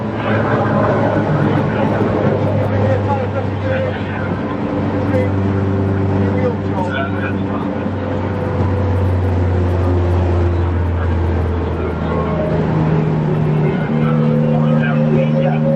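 Race cars at the Silverstone GP circuit in a Britcar Trophy race, including a Golf TDI and an Audi TT TFSI: a steady, loud engine drone with shifting pitch throughout, under continuous commentary.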